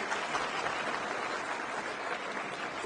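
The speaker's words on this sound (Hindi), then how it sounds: "एक बार सभी के लिए जोरदार तालियां।" An audience at a Delhi government event with ministers on stage claps loudly and continuously, a dense wash of applause with no voices over it.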